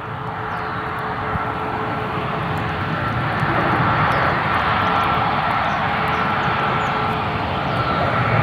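Aeronaves TSM jet airliner departing Cleveland Hopkins airport, a steady loud broadband engine roar sustained throughout without breaks, no voices.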